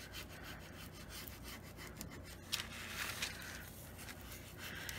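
A card rubs back and forth over a dot mandala stencil, making a soft, continuous scratchy friction close by and fairly quiet.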